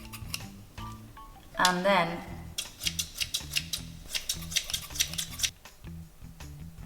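Sewing scissors snipping through fabric in a run of sharp, close clicking cuts, evenly spaced, after a brief voice and some handling noise.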